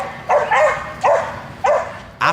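A bull terrier barks four times in short, sharp, evenly spaced bursts, loud and close with nothing else in the background.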